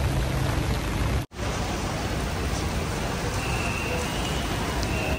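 Heavy rain pours at an airport as a loud, continuous hiss of broadband noise with a brief dropout partway through, no voices evident.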